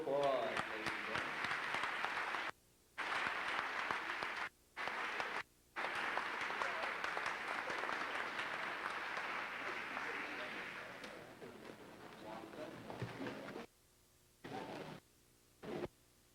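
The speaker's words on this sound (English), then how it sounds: "let's have a big round of applause," A large audience at a 1992 high school academic awards ceremony applauds steadily, sustained clapping that fades toward the end, broken by brief pauses, with no voices standing out.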